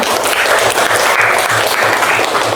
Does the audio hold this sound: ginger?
no